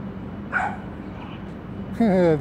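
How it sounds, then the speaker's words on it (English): Dogs give two short barks, a softer one near the start and a louder, sharper yelp toward the end, over a low background hum. "Dogs barking at the dolphin."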